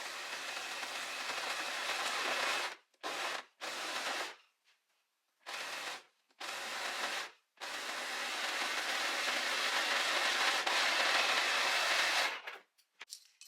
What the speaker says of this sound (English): So now we need to overlock everything that we have just sewn.